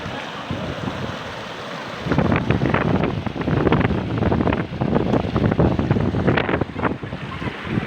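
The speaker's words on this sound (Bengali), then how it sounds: "দেখেন কিভাবে পানি ঢুকছে।" Salt river water from the Kapotaksha rushing in through a cut drain into a flooded area, a loud, continuous turbulent roar with gusty wind buffeting the microphone throughout.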